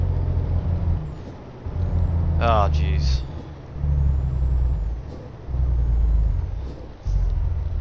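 Truck air brakes in Euro Truck Simulator 2 release a sharp hiss over a heavy rumbling engine drone that surges and drops repeatedly, with a man's brief exclamation in the middle.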